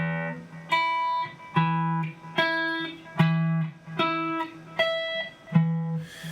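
An electric guitar plays single notes one at a time, stepping up the fretboard in time with a metronome, with seven evenly spaced plucked notes, each ringing briefly before the next, clear and alone.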